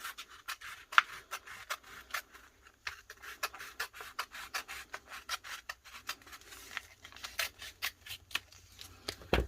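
Clear vinyl being cut with scissors in a close, quiet room, a rapid series of crisp snips and rubbing sounds that keeps going steadily throughout.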